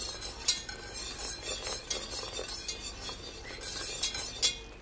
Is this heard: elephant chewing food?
no